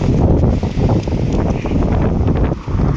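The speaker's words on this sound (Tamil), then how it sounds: "செம்ம காற்று அடிக்குதுங்க. பயங்கரமான காற்று." Powerful wind roars across the microphone at an outdoor unloading spot where a lorry is parked, a steady loud rumble with brief dips in the gusts and no speech.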